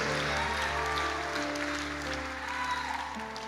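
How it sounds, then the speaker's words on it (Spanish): A church congregation claps during a worship service, a sustained, moderately distant patter of applause layered over held organ-like musical tones. "dale el aplauso fuerte a Dios"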